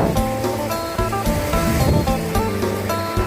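Rushing water at Mo Paeng waterfall near Pai, Thailand: a constant broadband roar with surging swells, overlaid with some steady tonal sounds.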